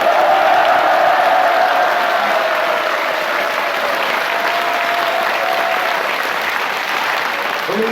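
Sustained applause from an audience at a political party founding assembly, a dense steady wash of clapping that holds loud for the full stretch with faint voices mixed in.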